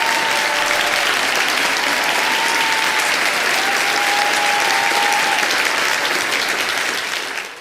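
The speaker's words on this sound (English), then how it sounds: "please give a warm welcome and round of applause" Sustained, enthusiastic applause from a crowd at a Parents Rights in Education Vermont event, welcoming international speaker Walt Heyer to the mic; the dense clapping, with a faint whistle-like tone running through it, carries on strongly before tapering off at the end.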